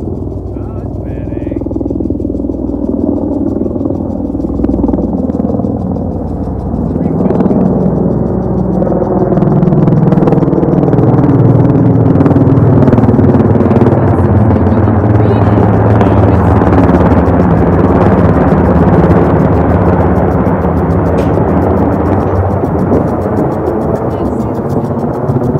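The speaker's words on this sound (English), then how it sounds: "Oh, it's refueling helicopters." Refueling helicopters fly overhead during an outdoor gathering, a continuous loud engine and rotor roar swelling and holding steady throughout, with people talking under the noise.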